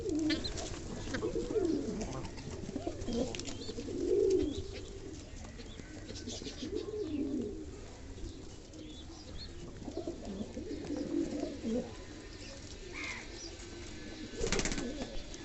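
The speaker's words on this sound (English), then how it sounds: "I have released some white Fantail baby as well." Fantail pigeons coo close by in soft, low, repeated throaty bursts, several birds overlapping irregularly over a quiet background, with a brief rustle near the end.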